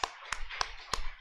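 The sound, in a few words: congregation applause in a church service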